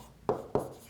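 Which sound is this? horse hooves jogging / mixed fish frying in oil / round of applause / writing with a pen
writing with a pen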